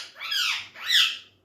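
A pet parrot squawking in its cage at night, two loud harsh close calls, each rising and falling, the second stronger, with no talking over them.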